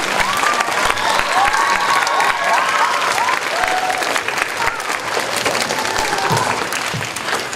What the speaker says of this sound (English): Students, would you give your teachers a big cheer this morning?